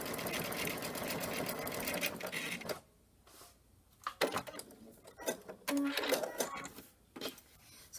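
A sewing machine on a Luminaire Solaris runs a triple straight stitch, a steady rapid mechanical whir that stops, then returns in short close bursts with clicks and handling noises between.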